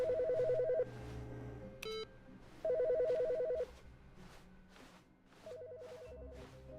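An in-game telephone rings in The Stanley Parable: Ultra Deluxe, three separate bursts of bright trilling bells in a steady rhythm, loud and close over a low ambient hum, with no talking.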